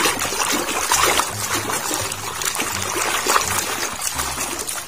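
Water trickling and pouring steadily over a toy T-Rex dinosaur as it is rinsed, close and moderately loud with a continuous splashy dribble and no speech.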